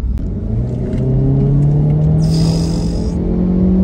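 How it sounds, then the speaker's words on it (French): A Renault Megane 4 RS Trophy accelerates hard in sport mode, its turbocharged engine a loud, close, steady rumble whose pitch climbs gradually, with a brief whir near the middle. "Tu as remarqué que tu accélères et le turbo va envoyer."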